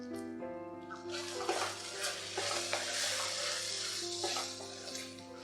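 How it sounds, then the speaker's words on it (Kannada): Spice powders such as cumin powder and garam masala are stirred and fried on low flame for a jackfruit seed gravy, with a steady close sizzle and scraping stir strokes and a constant hum underneath. "ಚೆನ್ನಾಗಿ ಮಿಕ್ಸ್ ಮಾಡ್ಕೊಳ್ಳೋಣ. ಲೋ ಫ್ಲೇಮಲ್ಲಿ ಒಂದು 15 ರಿಂದ 30 ಸೆಕೆಂಡ್ ಫ್ರೈ ಮಾಡ್ಕೊಳ್ಳೋಣ."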